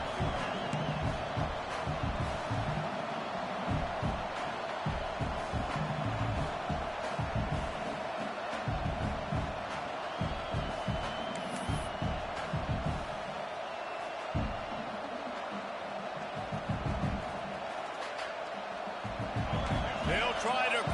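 Stadium crowd noise in the College Football 26 video game during a Notre Dame game, a steady roar running the whole time beneath the commentators' talk, with sharper swells and thumps scattered through it.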